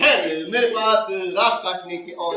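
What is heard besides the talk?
No everyday noises stand out.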